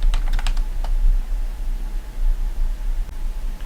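Quick taps of a word being entered on a phone keypad in the puzzle horror game Veiled, giving a short burst of clicks near the start and then a low hum.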